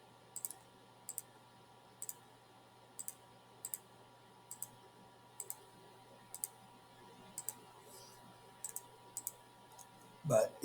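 Calculator buttons pressed in regular pairs of crisp close clicks spaced about a second apart over a quiet background, followed by a brief louder burst at the end.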